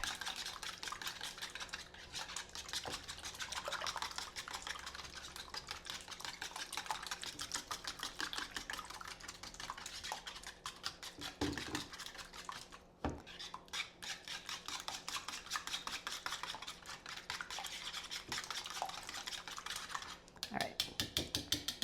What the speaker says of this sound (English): I'm about to whisk that because it did say 4 eggs whisked on the ingredient list.